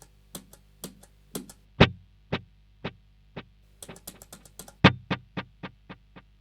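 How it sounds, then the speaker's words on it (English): Tap tempo button on a TC Electronic Nova Repeater delay pedal clicked in a steady quarter-note rhythm, each sharp tap followed by fainter echoing repeats, close and clear with no talking. "what you just heard was me tapping quarter notes and getting quarter notes out"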